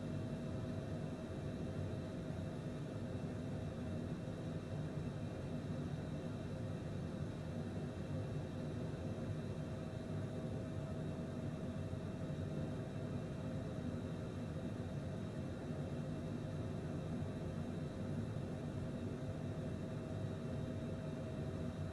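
A Cessna Citation private jet in Microsoft Flight Simulator 2020 produces a steady, unbroken engine and airflow drone, even and moderately quiet throughout with no change in pitch or loudness.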